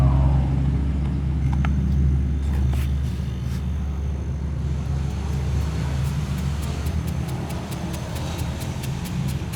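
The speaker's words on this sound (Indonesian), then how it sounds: "Saya akan hidupin ini kompresor." An air compressor runs continuously with a steady low droning hum while flushing a freezer box, with faint scattered ticks and clicks in the later part.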